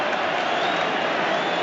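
Middlesbrough football crowd at a match against Tottenham Hotspur gives off a steady, dense roar of laughter and jeering from a packed stadium, with no break in the noise.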